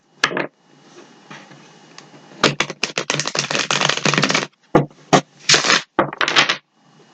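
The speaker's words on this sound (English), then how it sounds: "One more shuffle." Tarot cards being shuffled, a run of crisp riffling and flicking bursts with short pauses between them, close and fairly loud, with no talking.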